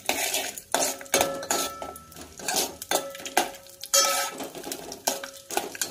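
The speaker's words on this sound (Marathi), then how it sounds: "तर सुके मेवे आणि विलायची सोप छान अशी फ्राय झालेली आहे" Dry fruits, cardamom and fennel fry in a pan while a utensil stirs them, with repeated metallic clinks and scrapes against the pan over a soft sizzle.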